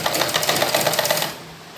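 Sewing machine stitching lace directly onto a suit sleeve, a fast, close, rapid rattling of needle strokes that runs steadily for over a second, then stops.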